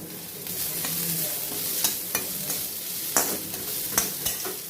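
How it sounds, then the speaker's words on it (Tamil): Ground masala for mutton curry roasting in a pan, a continuous close sizzle and hiss with periodic scraping knocks of a spoon stirring, steady and fairly loud throughout. "நல்லா செவக்க வறுத்துக்குவோம்"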